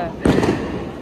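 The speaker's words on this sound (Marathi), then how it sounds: "पाऊस गेल्यानंतर सगळे फटाके वाजवायला" Diwali firecrackers burst outdoors on Lakshmi Puja night after rain, one sharp near bang that dies into a short rumbling tail.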